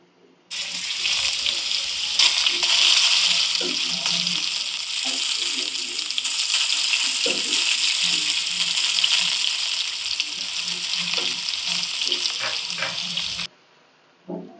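Steady crackling sizzle of two spoons of ginger garlic paste frying with onions in a pan, continuous and close, with occasional clinks of a spoon stirring, then it cuts off.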